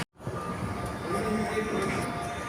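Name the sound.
Doha Metro train starting and moving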